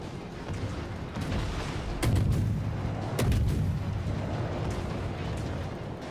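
Ship cannons fire in a naval video game, two heavy booms rising out of a rumbling, noisy ambience of battle and sea, sounding fairly distant rather than close.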